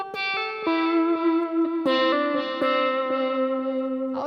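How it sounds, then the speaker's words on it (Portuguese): Electric guitar solo with a delay effect, clean sustained notes and bends answered by softer echoing repeats, played alone and up close. "o delay nessa repetição acaba virando um reforço pro meu solo"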